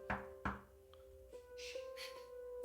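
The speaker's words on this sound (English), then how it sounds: "When you knock on the door," Knocking on a door during a tabletop role-playing session: two distinct knocks close together, followed by quieter faint taps and soft room noise.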